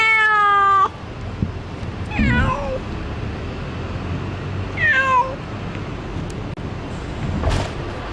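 A neutered stray cat gives two drawn-out, wavering meows a few seconds apart, outdoors over a constant low background rumble after a brief tonal sound at the start.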